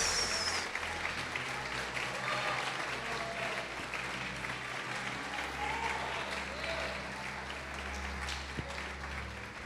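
A church congregation applauds after a sermon, with steady, dense clapping from a crowd that holds evenly for nearly ten seconds with no pauses, slightly distant and roomy.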